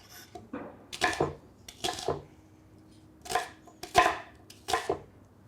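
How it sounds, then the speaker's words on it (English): A knife chops a garden-grown onion into big chunks on a cutting board, about six distinct close knocks at an uneven pace with quiet gaps between them. "next, we will chop 1 onion that we harvested out of the garden"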